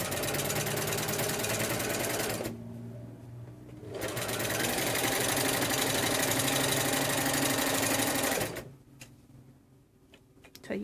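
A sewing machine stitches quilt binding in loud, steady bursts of rapid mechanical whirring, stopping briefly around the middle before running on again, then dropping to quieter slow clicks as the handwheel is turned manually for the last few stitches.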